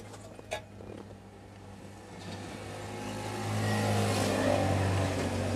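A Daihatsu Zebra Espass engine cranks and catches with its ignition coil cable pulled, then runs with a steady mid-pitched hum that grows louder and rougher toward the end, close by.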